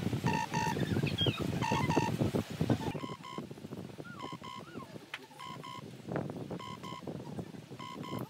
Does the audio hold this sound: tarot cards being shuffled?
no